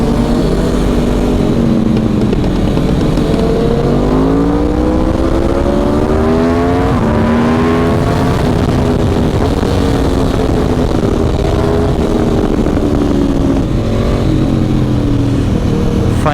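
Aprilia RSV4 superbike engine heard while riding, a loud continuous roar with rising and falling pitch as it revs through gears, steady and close throughout with no talk.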